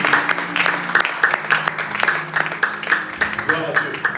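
A church congregation claps in a steady rhythm with cheering voices mixed through it, loud and close, filling the whole space with rhythmic praise.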